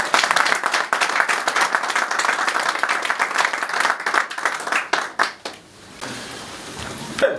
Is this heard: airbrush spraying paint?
no